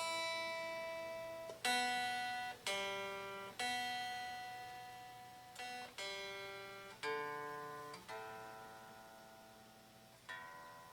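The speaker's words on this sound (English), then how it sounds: "I'm sorry, I'll tune real quick." Single electric guitar notes are plucked and left to ring one after another during tuning through a Crate V18 amp, about nine in all, each decaying slowly, close and fairly quiet.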